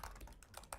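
Keystrokes on a computer keyboard, a steady close run of light clicks and taps filling the short moment with no voice over them.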